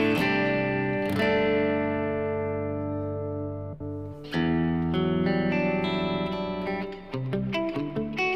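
A guitar rings out through the reverb effect of a Boss GX-100 processor, with sustained chords and single notes trailing off into long, lush tails and no talking over them.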